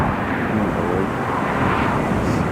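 An Italian Air Force C-27J transport aircraft lands at Newcastle International Airport, giving a loud, continuous broadband engine and propeller roar that holds steady throughout.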